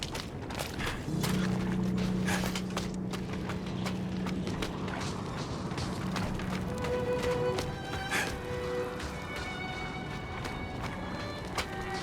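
Hooves pound at a steady run while a horse whinnies in the video game Diablo IV, backed by a sustained musical drone and game-like effects, moderately loud throughout.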